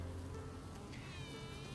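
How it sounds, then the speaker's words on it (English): A queen honey bee pipes to her new colony, a thin, wavering high tone rising out of the dense, close buzzing of the hive, over about two seconds. "That is the sound of Queen Violet piping to her new colony"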